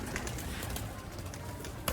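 Sialkoti pearl-marked pigeons coo steadily and close by, with a soft continuous murmur of several birds and a brief louder sound near the end.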